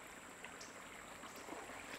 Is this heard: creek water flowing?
yes